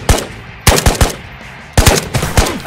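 Loud, close automatic gunfire in the VR shooter Ghosts of Tabor, three separate rapid bursts of shots with short pauses between them during a PvP firefight.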